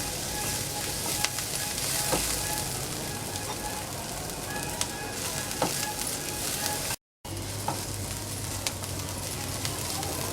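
Onion with green chili sautéing in hot oil in a pan for bitter gourd bhaji, a steady close sizzle and crackle throughout with faint stirring scrapes.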